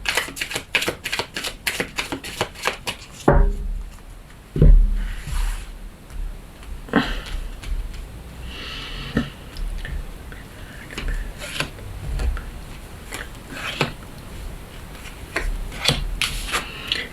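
Tarot oracle cards being shuffled with a quick riffle of crisp flicks, then drawn one by one as scattered soft snaps and slides on a table, close and fairly quiet, with no talking.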